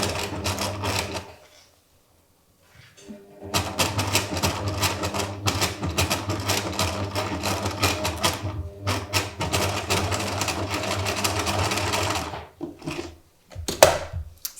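A sewing machine stitches an invisible zip into a beaded silk haute couture top in close, steady whirring runs, with a brief stop near the start and another short burst near the end.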